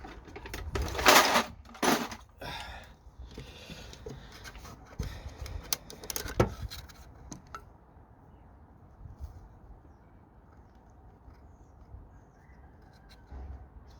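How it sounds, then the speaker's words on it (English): Cable cutters snip through wire during a Land Rover Discovery 3 heater controller fitting, giving a few sharp clicks and crunches early on before the sound settles into quiet background. "So I'm just gonna snip a bit off it."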